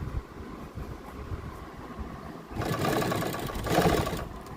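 A sewing machine stitching over a strip for an invisible zip on a kurti, a steady whirring run that starts partway through and grows louder with a second surge near the end.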